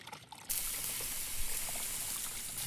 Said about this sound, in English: Pour the last of the water.